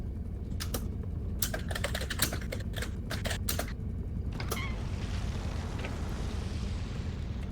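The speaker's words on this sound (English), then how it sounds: "I love that I can just hear you typing and I see you, like, I can hear you hit the enter key" Rapid clacking of computer keyboard typing in bursts, ending with a sharper keystroke like the enter key, close and clear over a steady low background hum during a livestream.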